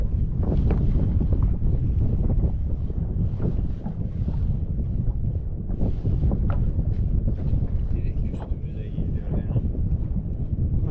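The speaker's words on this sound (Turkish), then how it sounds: "Şu an bir tekne geliyor ama direkt bize doğru geliyor" A boat motor drones continuously as the boat approaches head-on, under heavy wind buffeting on the microphone, with water splashing and faint voices in the background.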